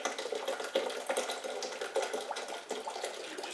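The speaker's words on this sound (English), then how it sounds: "So we'll add some coconut water until we get 4 cups of juice in here." Coconut water poured into a blender jar for a smoothie, a soft, continuous splashing trickle of liquid with no talking, fairly quiet and even throughout.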